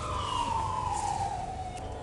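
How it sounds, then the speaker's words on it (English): A police car siren wails during a pursuit, one long slowly falling tone held steady over the noise of the moving vehicle at moderate distance. "The sirens turned on and information spread as the cops started pursuing the blue SUV where the shots came from."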